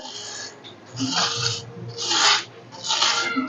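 A fork scrapes a block of frozen ice at home to shave it for ice gola, giving three rasping strokes, close and moderately loud, with no talk.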